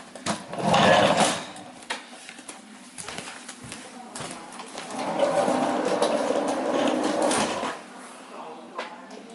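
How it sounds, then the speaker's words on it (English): A 1960s Lewyt canister vacuum cleaner drones steadily while being dragged along a floor, with bumps and rattles from its wheels, rising louder partway through. "just want to demonstrate how awkward this is to vacuum with"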